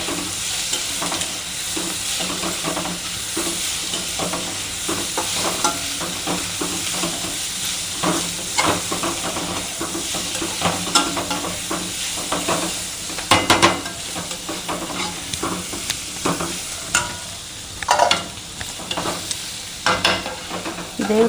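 Potatoes fry in a pan with a steady, close sizzle while a spoon stirs them in repeated scraping strokes, the texture continuous and fairly loud throughout, with no talking.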